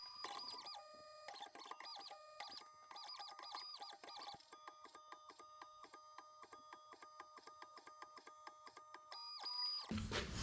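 An Xhorse Dolphin XP-005L key cutting machine decodes a key blade, giving off rapid electronic beeps and whirring tonal bursts in a busy, continuous pattern, then a louder mechanical rush near the end.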